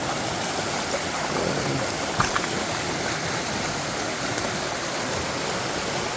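Floodwater on a swollen creek rushes past a large tree root ball, a steady close roar of churning water with no talk.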